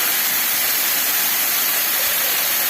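A shower runs steadily while someone bathes, the water spraying in a dense, even hiss that stays loud and unchanging throughout.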